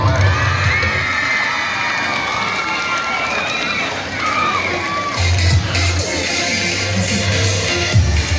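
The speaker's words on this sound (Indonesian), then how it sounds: "Berikan tepuk tangan yang meriah untuk 81." Students at a school climate-action event cheer and shout for a class, a loud, sustained crowd of young voices with bursts of excitement and scattered claps throughout.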